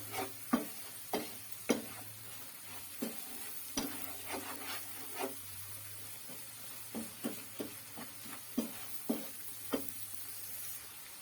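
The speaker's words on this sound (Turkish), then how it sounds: "Şimdi irmiği bir güzel kavuruyorum. rengi kahverengi olana kadar kavuracağım." Semolina roasting in oil in a pan for semolina halva, with repeated sharp scraping stirs of a spoon over a low steady sizzle; no voices, moderately quiet and close.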